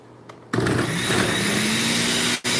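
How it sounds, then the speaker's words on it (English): Kitchen blender whirs to full speed on torn bread, a loud steady high whine after a brief quiet start, cutting off abruptly near the end. "I'm going to put this on my blender"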